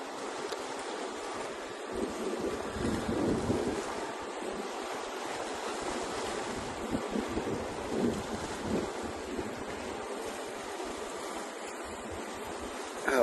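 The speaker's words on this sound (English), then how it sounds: "Wind kicked up a little bit" Steady, rushing wind buffeting the microphone on a cruise ship deck, mixed with a constant surf-like roar, no voices, continuous throughout.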